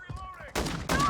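The Lockwood MK2 bolt-action rifle fires in Modern Warfare 2, two loud, close booming shots about a third of a second apart following a brief tonal whine.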